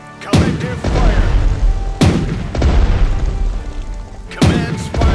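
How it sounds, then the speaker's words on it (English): Naval cannons fire in heavy booming salvos during a video game sea battle in a World War II Operation Sea Lion scenario, with three loud blasts, each trailing into a long rumbling, crackling decay. "I want all cannons firing on that."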